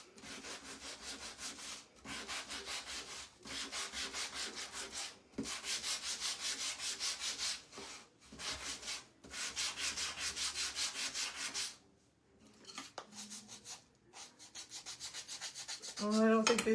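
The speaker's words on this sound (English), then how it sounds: "So we're just gonna take our sanding block," A sanding block is rubbed back and forth over dry glued wood for a Christmas sign, making steady rhythmic scraping strokes in bursts with short pauses, close and fairly quiet.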